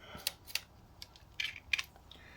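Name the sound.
Nikkormat FTN camera shutter firing on slow setting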